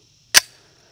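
A single sharp gunshot from an FNH FNX 45 pistol firing Federal aluminum-case ammunition, fired outdoors at about 40 yards. There is one loud crack with a short decaying tail, then quiet.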